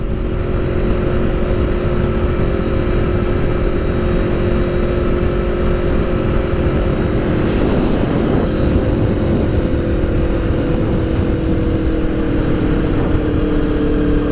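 An Aprilia V4 Tuono Factory motorcycle being ridden, its engine droning steadily under heavy wind rush, with a brief swell of revs midway.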